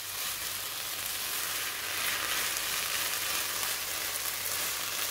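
Continuous crackling sizzle of food frying in a pan for a stuffed eggplant dish, close and steady for the whole stretch, with no talking.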